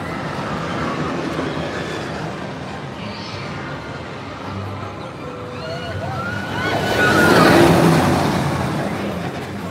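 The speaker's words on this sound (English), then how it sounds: "I think the train is coming" A ride train at Disney California Adventure, near the Incredicoaster, rumbles past with a rising rush that swells and peaks near the end, over steady outdoor park noise and wind, with faint chatter around.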